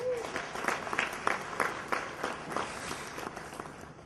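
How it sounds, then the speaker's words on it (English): A gala audience claps in steady, moderately loud applause that carries on for several seconds, with a faint crowd murmur underneath. "One more round of applause for him."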